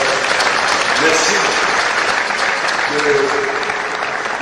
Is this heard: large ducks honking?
no